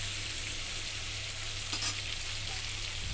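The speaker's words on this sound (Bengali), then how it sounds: "এইভাবে আলু এবং পেঁয়াজ দুটোকে একসঙ্গে ভেজে নেব" Potatoes and onions fry together in oil with a soft, even sizzle and a faint low hum beneath, one brief stir in the middle, no voices.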